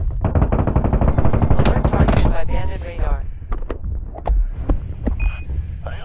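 Rapid automatic bursts from space guns in the sci-fi shooter Boundary rattle loud and close, a dense stream of shots that gives way to scattered single pops and clicks.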